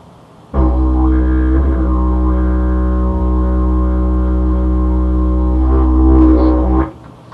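A deep, steady didgeridoo drone holds a single low pitch for about six seconds, loud and close, with slight shifts in overtone colour.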